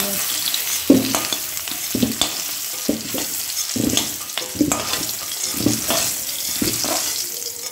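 Small potatoes fry in hot oil with salt and turmeric in a home kitchen, a steady sizzle broken by regular stirring scrapes and clinks that come roughly every second, close and fairly loud.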